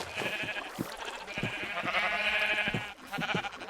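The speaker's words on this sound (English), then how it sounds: "So I built this place where I could have sheep in all colors, regrowing their wool after I sheared them." Sheep in the Minecraft video game bleat in several overlapping wavering calls, fairly close and continuous, with a brief pause before a final bleat.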